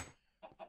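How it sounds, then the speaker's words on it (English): A chicken in the survival game Castor gives two short clucks close by, each a brief burst, after a moment of quiet. "Hey, chicken. One of my wild free-range chickens."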